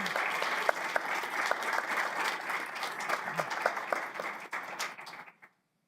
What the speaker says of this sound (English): That's why she got a little bit more applause than the 10-year recipient.